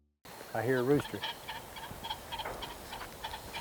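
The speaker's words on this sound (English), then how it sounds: "I hear a rooster." A rooster pheasant gives a harsh, wavering crowing call, followed by faint scattered rustling and clicks outdoors during a driven pheasant hunt.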